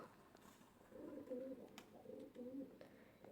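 White pigeons cooing at a window, a soft rolling series of low coos repeating in two or three close bursts, quiet and near with faint background hum.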